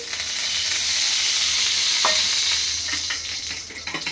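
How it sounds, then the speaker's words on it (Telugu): Eggs being beaten for an omelette to fill breakfast egg rolls: a continuous close whisking hiss, getting choppier toward the end, with no talk. "బాగా బీట్ చేయాలి, పప్పిగా వస్తుంది మంచిగా"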